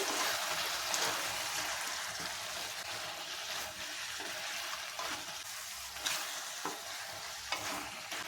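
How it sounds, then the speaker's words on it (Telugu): Water is poured into a hot cooking pot of spiced country chicken curry, producing a quiet, continuous hissing sizzle with faint bubbling and no talk. "వాటర్ పోసుకోవాలి. ఒక కప్పన్న పోసుకోవాలి వాటర్"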